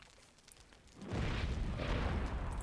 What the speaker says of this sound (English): There's rockets going everywhere, more cannonballs.